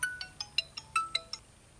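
A mobile phone ringtone for an incoming call chimes in a quick series of bright electronic beeps, about eight tones in under two seconds, clear and alone.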